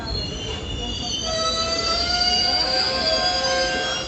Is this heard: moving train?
yes